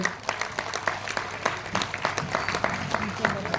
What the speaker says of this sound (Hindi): एक बार जोरदार तालियां बजा दें आपके लिए।